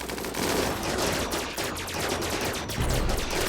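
Laser miniguns firing during a RimWorld battle, a dense, rapid stream of shots layered into a constant loud barrage with no pauses.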